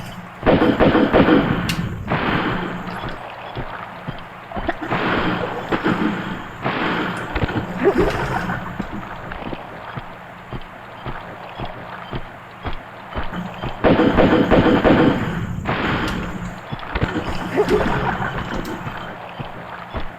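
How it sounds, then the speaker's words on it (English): Gunfire aimed at an enemy in the video game Tomb Raider 2, aboard the wreck of the Maria Doria: repeated loud bursts of shots in uneven clusters over a steady low background hum, with no talking. "Couple more shots and he should die."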